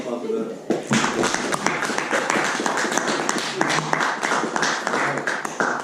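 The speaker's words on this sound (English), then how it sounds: "Another round of applause for them." Audience applause at a Toastmasters club meeting, a dense, steady clatter of many hands clapping that starts abruptly near the beginning and carries on through the clip, loud and close, with some voices mixed in.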